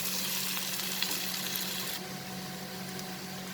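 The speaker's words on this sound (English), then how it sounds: "And then now I will saute this and cook for 1 minute." Bitter gourd and potato saute in a pan with ground roasted poppy seeds, giving a steady close sizzle and frying hiss throughout, with no talk.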